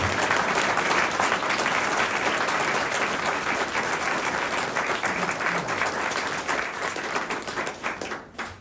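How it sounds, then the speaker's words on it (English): An audience at the Fort Ancient World Heritage commemoration open house in 2023 gives a long, steady round of applause that fills the room and tapers off near the end, with no one speaking over it. "if we could please give a round of applause for these folks"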